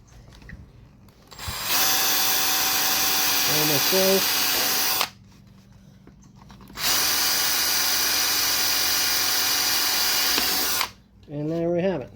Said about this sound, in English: just drill those 2 holes out without punching a hole in my speaker